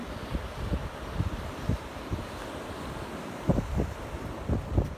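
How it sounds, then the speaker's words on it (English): Strong night wind on a beach buffets the microphone in rumbling gusts, with a constant roar behind it that resembles surf. "it's just so windy tonight that my hair keeps blowing in my eyes"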